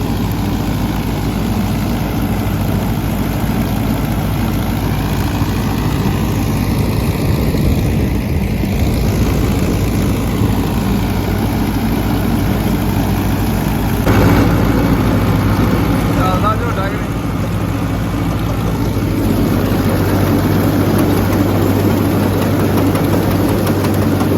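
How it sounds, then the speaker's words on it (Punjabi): A John Deere 555 tractor engine runs steadily nearby with a deep, continuous low drone and a steady idle rumble that holds throughout, with some background noise on a farm during straw work with trolleys. "ਹੁਣ ਚੱਲਣ ਡਿਆ 555 ਜੌਂਡੀਅਰ"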